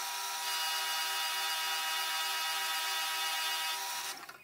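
A milling machine end mills a long part held in a vise, producing a steady, fairly quiet high-pitched machining hum with constant tones that runs evenly before cutting off near the end.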